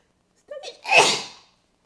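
A single sharp sneeze, a short intake of breath followed by a loud burst, close up in an otherwise silent room.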